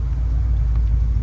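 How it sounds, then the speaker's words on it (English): A 1991 Jeep Grand Wagoneer's engine idles with a steady, loud low rumble close by, even and unbroken throughout, without speech. "It is idling pretty well."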